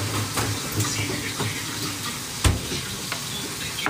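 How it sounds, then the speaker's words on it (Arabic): Potatoes fry in hot oil in a home kitchen, a steady loud sizzle and crackle with occasional sharp pops and stirring clatter, no talking. "بعد ما اخلص من قلي البطاطس راح احطها على الدجاج الدقاق"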